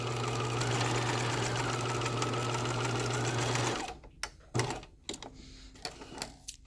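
A sewing machine stitches a decorative seam sample in a loud, steady whir for almost four seconds, then stops, followed by scattered close clicks and light handling noises.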